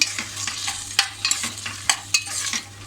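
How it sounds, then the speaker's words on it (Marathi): Spoon scraping and stirring black-eyed beans and potatoes sautéing in oil and a Malvani spice paste, with a steady close sizzle punctuated by sharp spoon clacks roughly every half second. "आता आपण हे असं थोडं परतून घेऊ या तेला तेलावर आणि मसाल्यावर"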